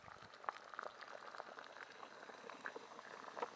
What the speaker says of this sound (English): A rolling boil at 8 minutes and 10 seconds for the Trangia